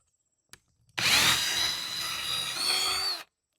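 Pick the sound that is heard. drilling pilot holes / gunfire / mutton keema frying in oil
drilling pilot holes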